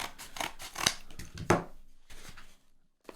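Scissors snip through stapled cardboard in a series of crisp, close cuts at an uneven pace, each a short crunchy slice, fading out at the end.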